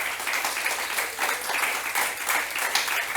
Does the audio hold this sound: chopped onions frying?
no